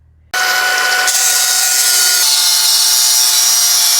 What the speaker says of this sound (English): let me get the grinder out and let me grind a little bit on each side